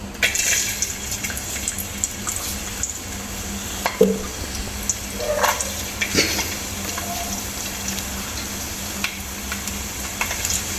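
Small pieces of coconut dropped into heating oil in a pan sizzle and crackle softly, with a few sharper spits and utensil clicks over a steady low frying hiss.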